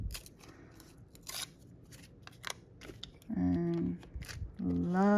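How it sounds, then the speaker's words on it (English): Scissors snip through junk mail envelope paper in quick, crisp cuts close to the microphone. Faint rustling of paper runs under the snips, and a brief voice-like tone is heard near the end. "love scissors, because I can cut things out I don't like"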